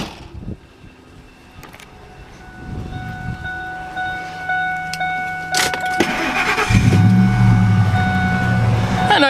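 A 2002 Lincoln Blackwood pickup truck engine with dual exhaust cranks and starts with a sharp burst, settling into a loud, rumbling idle after a few seconds of quieter clicks and hum.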